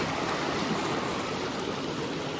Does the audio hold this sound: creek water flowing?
yes